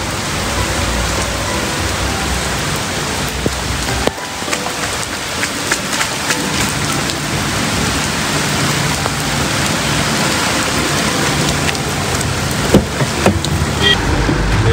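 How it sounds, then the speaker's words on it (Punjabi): Heavy rain pours down steadily and loudly, a dense continuous hiss of drops on surfaces with a few brief clatters, with nobody speaking. "ਬਹੁਤ ਜ਼ਿਆਦਾ ਮੀਂਹ ਪੜ ਰਿਹਾ ਹੈ, ਬਹੁਤ ਜ਼ਿਆਦਾ।"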